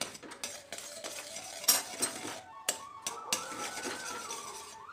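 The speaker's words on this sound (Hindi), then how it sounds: "इसे अच्छे से चलाते जाएंगे।" Melting jaggery for til gajak is stirred in a pan with a metal spoon, giving soft scraping and clinking strokes near at hand, with a few sharper spoon taps against the pan's sides.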